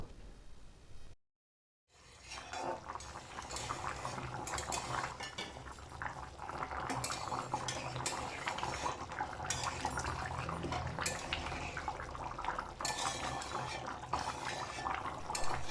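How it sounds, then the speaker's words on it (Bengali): Potato curry in coconut milk bubbling in a pot over raised heat: a steady, dense simmering hiss and popping that runs close and continuous after a brief silence near the start. "এবার আঁচটা বাড়িয়ে দিয়ে ভালো করে আমরা ফুটতে দেব।"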